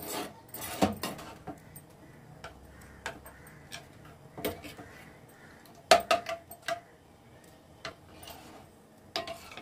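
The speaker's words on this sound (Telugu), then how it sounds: "ఈ పిండి కొండలు లేకుండా కలిపేసుకోవాలి బాగా" Flour batter is mixed in a bowl, irregular light clicks and taps of a spoon against the rim in short bursts separated by quiet gaps, fairly close, with no voices.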